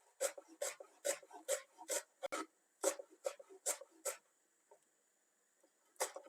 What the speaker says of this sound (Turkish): Dereotlarımızı da ufak ufak kıyıyoruz soğanlarla beraber.